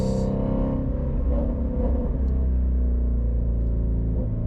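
A loud, steady Ford Shelby GT350R sports car engine drones from inside the cabin, a deep continuous rumble with slight rises in revving throughout.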